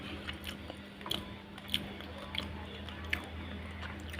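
Soft, close chewing and biting on cooked catfish meat from a boiled catfish dish, with a few moist squishes and small crunchy clicks spaced irregularly, quiet and alone.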